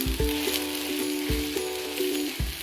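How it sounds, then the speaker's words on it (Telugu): An egg omelette fries in a pan on a gas stove, giving a steady close sizzle broken by a few soft knocks, with no voices. "2 వైపులా సమానంగా కాల్చుకుందాం. ఎగ్ ఆమ్లెట్ రెడీ అయిపోతుంది."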